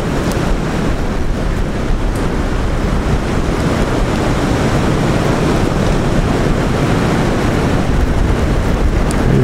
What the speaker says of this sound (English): There's a stream over here.